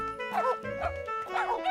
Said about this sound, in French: Les chiens avaient plutôt l'air de s'amuser.